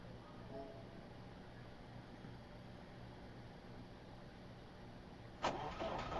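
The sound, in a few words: truck engine starting up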